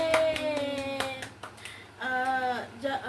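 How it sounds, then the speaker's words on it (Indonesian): A classroom of fourth-grade children claps for classmates, with a handful of scattered claps mixed with sustained cheering voices from the pupils. "Tepuk tangan untuk teman-teman kita"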